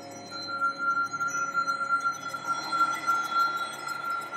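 Glass in a horror movie scene, a sustained ringing, clinking tone with faint background noise and no speech.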